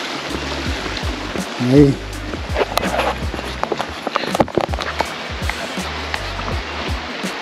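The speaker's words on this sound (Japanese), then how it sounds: "またかっこいい川を渡るとこ。" River water flowing at a crossing in the Kamikochi highlands, a steady broad rushing wash with footsteps and a person speaking over it.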